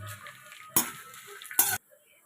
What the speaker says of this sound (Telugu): ఆయిల్ బాగా హీట్ అయిన తర్వాత ఇప్పుడు మనం ముందుగా ఒలిచి పెట్టుకున్న ఎండుమిరపకాయలు వేసుకోవాలి